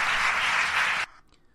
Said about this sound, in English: Another round of applause for Deborah Glick.